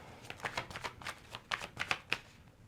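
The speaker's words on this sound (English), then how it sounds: "We're going to pull one more tarot card just to put it here." Tarot cards being shuffled and drawn, a run of soft riffling flutters followed by several crisp individual card snaps and slides, close and quiet with no talking.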